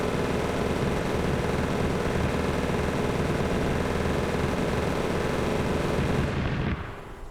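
Continuous, dense gunfire in a video game, loud and steady, a sustained barrage that cuts off abruptly near the end with no talking.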